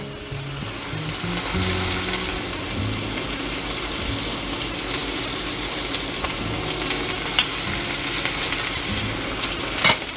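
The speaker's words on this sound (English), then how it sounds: "So when our olive oil is hot, we're gonna start searing our meat." Beef seared in batches in hot olive oil in a braiser makes a continuous loud sizzle and crackle, close up, with occasional clinks of a utensil and no talk.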